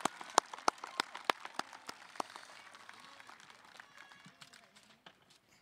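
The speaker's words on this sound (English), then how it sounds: "Let's give them a round of applause." A high school graduation crowd claps for the class of 2022 valedictorians, a few sharp distinct claps at first that thin into scattered, fading patter toward the end, with faint murmuring underneath.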